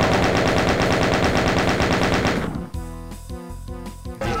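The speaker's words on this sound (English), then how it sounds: "Chain gun." A chain gun in the first-person shooter Ultimate Doom fires in a loud, rapid stream of shots for a couple of seconds, then gives way to game music and sound effects with a few more blasts.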